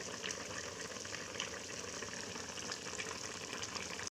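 Local chicken curry with potatoes bubbles in a pot over a wood fire, a continuous dense, hissing simmer at steady low level with no pauses and no voices.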